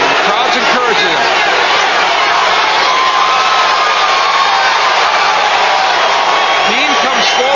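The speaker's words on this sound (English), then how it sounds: "The crowd's encouraging him." A boxing arena crowd roars and cheers steadily at a fight between Butterbean and Larry Holmes, a dense loud wash of noise under a commentator's voice.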